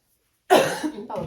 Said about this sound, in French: Je tousse cette grippe